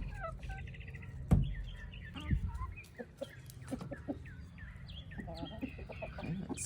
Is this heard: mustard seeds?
no